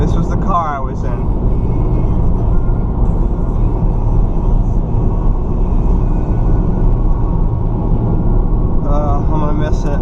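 Cabin sound of a 2009 Honda Fit on the move, a steady low road and engine rumble that stays constant throughout, with people talking briefly at the start and end.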